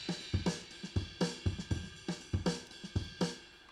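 Logic Drummer virtual kit plays a loud, complex beat: dense kick and snare hits with busy cymbals and hi-hats in a steady driving rhythm, with no talking over it.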